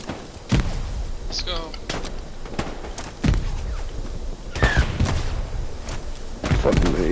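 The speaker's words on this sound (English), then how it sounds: "I destroyed an outpost with one of my grenades." Grenade blasts and gunfire in the video game Hell Let Loose, with several sharp booms and thuds spread across a few seconds amid a battle din, near and loud, and voices talking in between.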